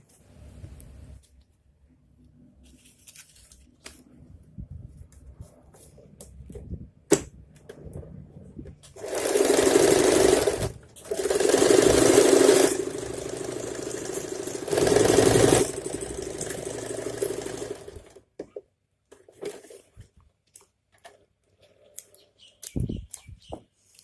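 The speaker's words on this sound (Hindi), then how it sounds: "तो चलिए इसमें सिलाई लगा लेते हैं" Sewing machine stitching elastic into a pair of ladies' straight pants, running in three loud bursts of steady whirring stitching separated by short pauses, with quiet handling noises before and after.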